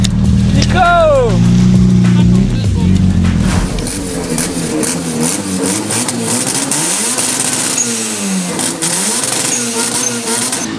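A Mazda RX8 race car engine drones steadily at close range with rising and falling revs on a circuit for its final race, run on a tyre worn down to the cords, while excited voices and crowd noise talk over it throughout.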